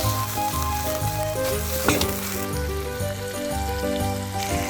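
Food sizzles steadily in a pan while being stirred, with a brief louder scrape partway through, set against tonal background music.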